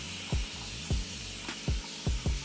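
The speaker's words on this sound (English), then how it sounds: "Spraying some water to help me detangle a little bit." A handheld spray bottle misting water onto hair, four short sharp hissing spritzes spaced roughly evenly, close and fairly loud over a steady background hiss.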